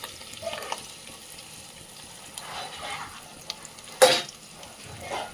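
Fish pieces fry with onions in a pan, a faint, soft sizzle throughout, broken by one short louder splash or scrape near the four-second mark.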